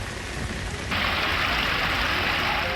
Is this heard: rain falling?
yes